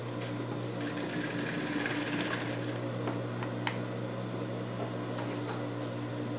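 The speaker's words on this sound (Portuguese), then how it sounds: "Você vem costurando." A sewing machine stitches leather for a dog shoe, running as a steady, continuous mechanical whir with a few small clicks near the end and no talking.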